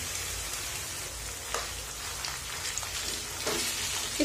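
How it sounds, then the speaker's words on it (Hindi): Minced meat (keema) sizzling in a pan with garlic, ginger and green chili: a steady, even crackle and hiss with occasional sharper pops, close up and uninterrupted. "लहसुन अदरक हरी मिर्ची को अच्छे से फ्राई करने के बाद अब इसमें कीमा डाल देती हूँ मैं"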